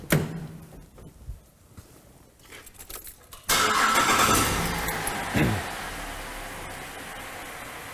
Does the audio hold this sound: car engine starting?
yes